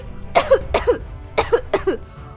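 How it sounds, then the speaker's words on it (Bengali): A Bangla cartoon woman character fakes illness with loud, rough, voiced coughing, four close coughs in two quick pairs, near and clear with no other voices. "তোমার এত হাঁচি কাশি হচ্ছে কেন"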